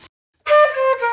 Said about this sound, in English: They sort of fade out down at that lowest range.